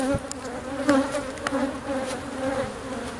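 Honeybees hum in a dense, steady drone with occasional louder passes of individual bees close by, heard during removal of a hive from a hollow bee tree, with no voices.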